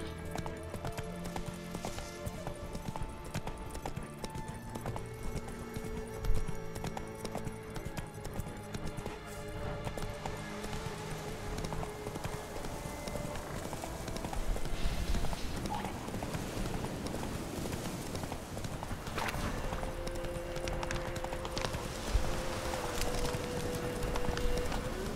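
Roach the horse gallops in The Witcher 3: Wild Hunt, with a steady rhythmic clatter of hooves running under dense game music and ambience for the whole stretch.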